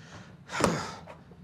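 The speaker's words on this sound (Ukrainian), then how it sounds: "ти що так важко дихаєш" One heavy breath, a loud rushing gasp-like exhale near the middle with a fainter breath after it, close and quiet in a calm indoor room.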